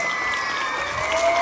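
An audience at a children's prize distribution claps steadily and fairly loudly throughout, a continuous wash of applause with no talk.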